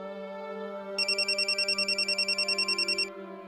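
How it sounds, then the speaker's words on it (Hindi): An electronic phone ring trills in rapid repeated pulses for about two seconds over a steady background hum, then stops. "मेरे इमरान का फोन होगा,"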